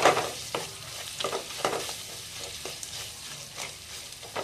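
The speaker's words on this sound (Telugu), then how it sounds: "ఇది కలుపుకుందామండి" A brinjal chutney mixture with ground green chillies, tamarind and dried red chillies is stirred in a sizzling pan: steady frying hiss broken by repeated scraping strokes, close and alone with no talk.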